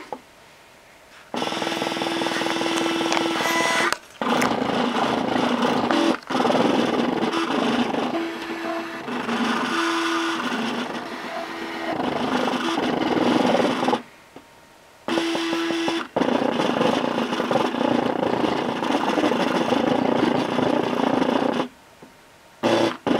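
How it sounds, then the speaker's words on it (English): A Cricut Imagine craft machine feeds a cutting mat through its lower section and cuts, making a loud mechanical whirring and buzzing with steady motor tones. Several short pauses break the long stretches of noise. "it's going to feed it through the bottom part of the machine. And it's going to cut."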